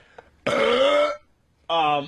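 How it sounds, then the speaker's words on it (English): A person lets out two burps, a long loud one followed by a shorter one after a brief pause, close and alone with no talk. "Yes, you burped."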